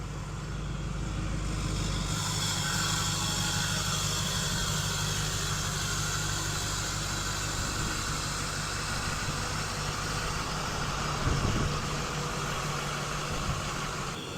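A 2005 Chevy truck with a newly replaced torsion bar crossmember out on a test drive: steady, close engine drone and road rumble run continuously from start to finish, with a brief low thump near the end and no talking.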